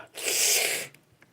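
One sharp sneeze from a person with a cold, a loud breathy burst lasting under a second, followed by a quiet exhale and stillness.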